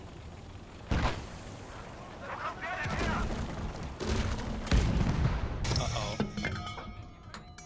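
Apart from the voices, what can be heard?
autocannon fire in the video game Gates of Hell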